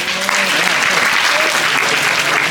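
Sustained applause from an audience at a scout motivation talk, dense steady clapping filling the room at a constant loud level throughout.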